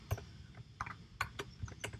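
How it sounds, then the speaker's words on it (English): Typing code on a computer keyboard during a Python programming lesson: a quick run of separate clicky keystrokes in an uneven rhythm, close and fairly quiet, with no talking. "now I'm going to be typing for x in list 1"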